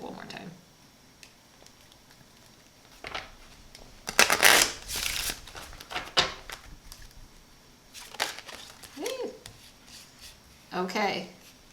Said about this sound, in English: I'm going to shuffle these like one more time.